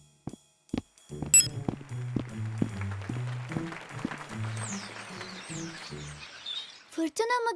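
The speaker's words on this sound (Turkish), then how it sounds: "Madalyonumla kuşları dinleyeceğim." High bird chirps and tweets scattered over busy background sounds and a low voice-like murmur, with a burst of chirping at the end.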